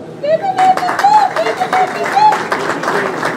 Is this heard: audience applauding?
yes